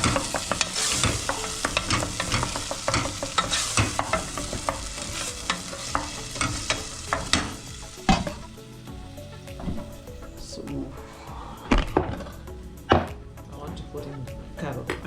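Green pepper and salt stir-fry in a pan, with a steady sizzle and repeated scraping stirs and knocks of the spoon against the pan, close and loud at first, then quieter with sparse clacks.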